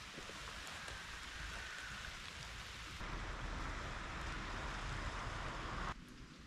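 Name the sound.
rain falling at a fishing spot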